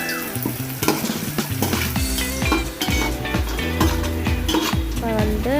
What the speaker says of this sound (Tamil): கொஞ்சம் நேரம் அப்படி மிக்ஸ் பண்ணி வச்சுக்கலாம்